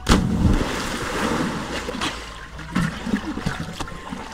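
Water sloshes and splashes in a pool as someone pushes it to make a wave, with irregular close bursts of splashing and trickling over a few seconds.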